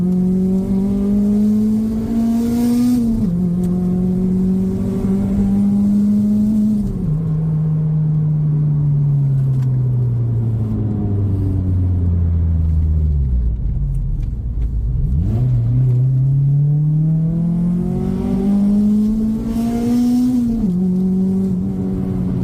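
Loud Honda Civic EP3 Type R engine revving hard as it climbs through the gears: each pull rises steadily, then drops at the shift, with a long deceleration dip midway before it pulls strongly again. No talking.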